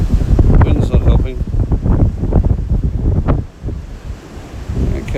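Strong gusting wind buffets an outdoor microphone at an Australian coastal spot with surf nearby, a loud continuous rumble that dips briefly and returns, with faint voices under it.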